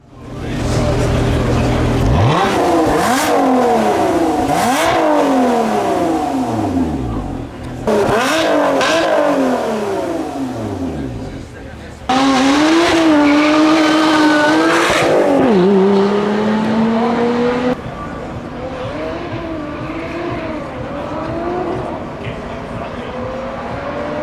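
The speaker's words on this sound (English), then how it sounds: "Let's now hear how the car sounds." A 2022 Lotus Emira V6 revs hard while driving, loud rising and falling engine sweeps through repeated gear changes, with a couple of bursts and a quieter cruising stretch at the end.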